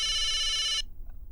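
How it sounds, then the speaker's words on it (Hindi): A telephone rings with a bright electronic tone that lasts under a second, then cuts off abruptly into near silence. "अरे मेहता साहब का फोन"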